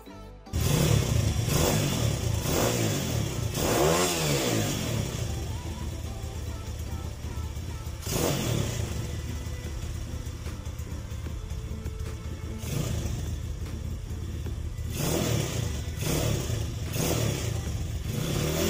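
A Mini MX Drift 140cc pit bike engine started in a garage, catching with a burst then running continuously with repeated rising revs and a rough, buzzing idle between, loud and close.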